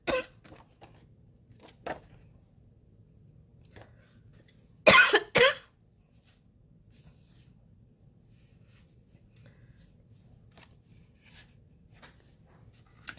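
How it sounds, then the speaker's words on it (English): A person coughs in two sharp bursts midway through an otherwise quiet indoor stretch, with only faint small rustles before and after. "Sorry, I was coughing"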